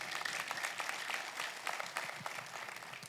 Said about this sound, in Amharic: ለእርሳቸው ነው ጭብጨባውና ማጨብጨብ እንችላለን